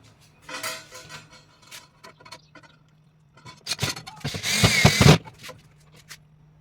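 Power driver sinking 3/4 inch self-tapping screws into pre-drilled 30-inch metal flat bar during grill deck assembly, with scattered close metal clinks, then a loud whirring burst of about a second ending in sharp clicks.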